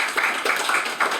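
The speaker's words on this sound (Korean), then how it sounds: "큰 박수 부탁드립니다." Audience applause at a Korean debate forum on military AI, a short burst of scattered claps heard close and fairly loud with no talk.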